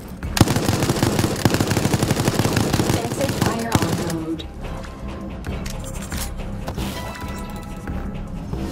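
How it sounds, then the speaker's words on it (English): Machine gun fire in Resident Evil Resistance, a loud dense burst of rapid automatic shots for about four seconds, then quieter scattered impacts and game sounds continuing. "Use the machine gun skill card to defeat the survivor."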